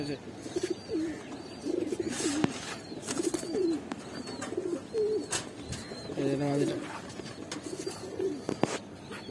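Pair of silver-line pigeons in a loft cooing in soft, repeated low phrases, with chirps from other birds and occasional sharp clicks around them, close and moderately quiet.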